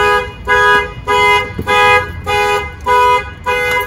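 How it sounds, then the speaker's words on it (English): A loud Nissan NV2500 High Roof van alarm blares in repeating pulses, about six bursts with short gaps between them, close by and with no voices. "Alarm sound."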